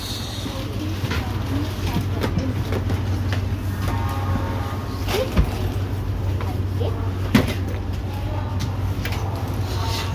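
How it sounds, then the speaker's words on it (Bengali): Vande Bharat Express train heard from close by, a steady low rumble with scattered clicks and two sharper knocks, someone talking over it. "এই যে আমাদের বন্দে ভারত এক্সপ্রেস"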